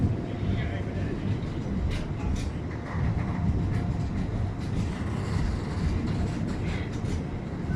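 A train rolls over a railway bridge overhead while someone fishes below, a steady loud rumble and rattle filling the whole stretch, with faint voices mixed in.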